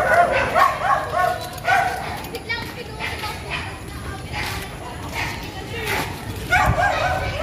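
Small dog yapping in repeated short bursts at a Filipino street at night, with children playing nearby and people talking over the barks.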